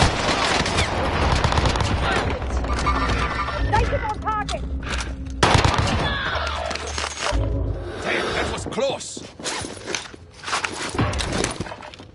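Rapid bursts of automatic gunfire and scattered shots in Call of Duty Warzone on Rebirth Island, dense and continuous across the clip, mixed with game effects and voice chatter.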